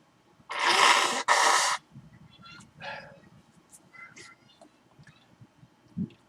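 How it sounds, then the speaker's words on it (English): Person blowing their nose, two loud, forceful blasts in quick succession, followed by quieter sniffing, rustling and breathing noises. "Gotta blow my nose."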